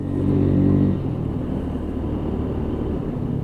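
A WK Scrambler 125cc motorcycle pulling in 4th gear, a steady droning engine note that swells briefly at the start and then holds, loud and close with wind noise.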